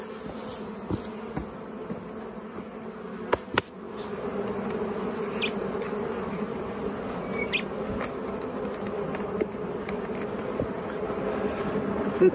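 A dense swarm of honey bees drones steadily around beehive frames during a May hive inspection, with the hive so full the bees are nearly overflowing. The buzzing is close and continuous, with a few faint knocks and handling sounds, and no talking.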